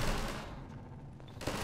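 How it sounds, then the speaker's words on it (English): Distant bursts of automatic gunfire in the Half-Life 2 video game, a faint, muffled rattle of rapid shots that swells again near the end. "I hear a lot of gunfire down here, and I don't like that."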